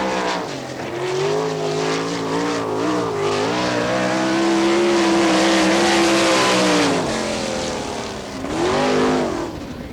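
Sprint car at full throttle on a Wichita, Kansas dirt track, engine screaming and wavering in pitch through the turns, loud and close, sustained for the whole lap with a brief lift near the end.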